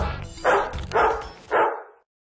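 A dog barks three times in close, loud bursts, the third cut off sharply, with a low background hum from band gear before silence.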